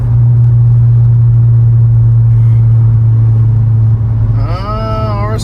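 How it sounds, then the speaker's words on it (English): An Acura TL Type-S fitted with straight-cut gears drives along with a loud, steady low gear whine and engine drone that shift near the end into a rising, sweeping whine as the car picks up speed. "the straight cut gearing is definitely pretty addicting"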